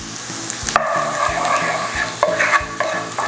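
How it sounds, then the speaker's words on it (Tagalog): Chopped garlic sautéing in melted butter in a pan for a creamy Tuscan salmon, a steady close sizzle broken by repeated scraping strokes of a stirring utensil against the pan. "Sisimutin lang natin itong bawang."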